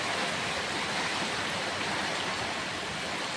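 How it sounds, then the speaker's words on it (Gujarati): Heavy rain pours during a strong windstorm, a dense, constant roar of water that stays loud and unbroken throughout, with no voices. "જો આમ ભાઈ જોરદાર વરસાદ આવે છે"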